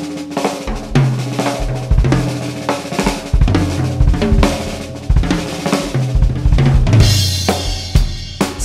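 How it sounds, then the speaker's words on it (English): Drum kit played loud and close without any hi-hat, just kick, snare and toms in a busy improvised pattern, with a cymbal crash near the end and no talking. "If I did that without the hi-hat, it would sound like this."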